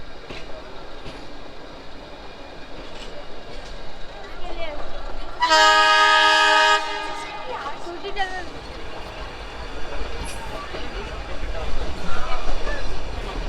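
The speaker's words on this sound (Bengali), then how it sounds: "লভডেল স্টেশন থেকে ট্রেন আবার বেরিয়ে যাচ্ছে।" The Ooty toy train pulls out of the small hill station at Lovedale. A long, loud horn blast sounds midway over steady rolling rumble and carriage noise, with faint voices in the background.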